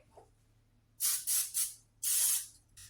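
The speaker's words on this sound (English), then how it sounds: "So I'm just going to spray the spatula with cooking spray." Three short bursts of aerosol cooking spray hissing close by onto a spatula, followed by a longer sustained spray and a brief final puff, with no talking.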